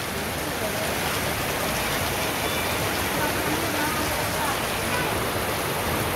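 Steady heavy rain in a Bangladeshi village pours down without a break, a dense, loud hiss of drops on surfaces that fills the whole stretch, with no voices.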